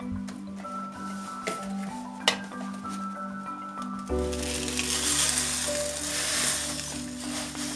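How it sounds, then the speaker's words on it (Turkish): Fat melting in a pan for kadayif dessert, a gentle crackle at first that turns into a fuller, continuous close sizzle partway through, with light scraping stirs. "Evet arkadaşlar yağımızı koyduk. Biraz hafif eriteceğiz."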